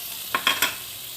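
Mushrooms and olives sauté in an oiled pan with a soft, steady sizzle, broken by three quick scraping stirs in close succession.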